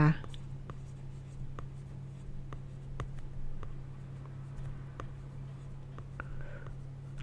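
A teacher writes out a math question, with a series of short, sharp pen or chalk strokes tapping out at an irregular rhythm over a constant low hum.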